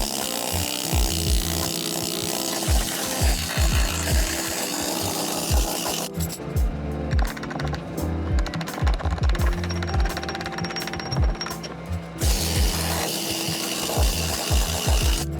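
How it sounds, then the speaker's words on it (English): A needle gun and chipping hammer chatter against metal while stripping flaky paint: dense, harsh rapid-fire hammering in uneven bursts, close and loud, easing into a lighter rattle midway before the heavy pounding returns. "I'm currently using a combination of a needle gun"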